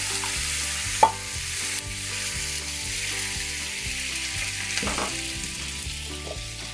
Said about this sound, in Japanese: この肉を焼いたフライパンにわさびソースを入れていきます